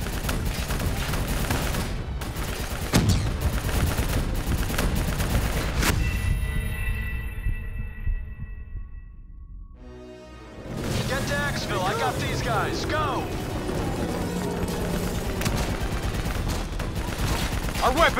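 Sustained automatic gunfire aimed at a VTOL aircraft in a Call of Duty: Black Ops 3 battle, loud dense bursts with a brief lull in the middle, mixed with heavy mechanical rumble and shouted voices of soldiers talking over the fight.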